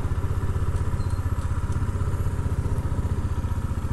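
A motorcycle engine idles steadily up close on a mountain roadside, a continuous low pulsing throb with faint clatter, running alone before it is switched off.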